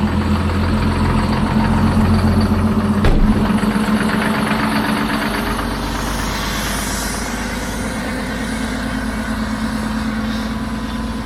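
A truck engine idles steadily while warming up on a cold morning, a loud, continuous low rumble close by with a brief knock near the start and no talking.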